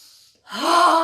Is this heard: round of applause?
no